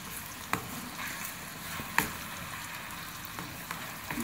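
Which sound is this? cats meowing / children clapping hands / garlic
garlic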